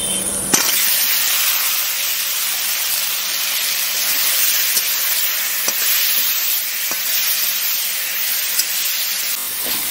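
Spiced mixed vegetables hit a hot pan with cumin and spices in a village kitchen. A loud, steady sizzle of frying runs throughout with a few faint clinks, close up, with no talk.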